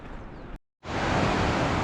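A mountain stream flows across the trekking path to Vasudhara Falls near Badrinath, a steady, dense rush of water close by that cuts out briefly and then returns louder.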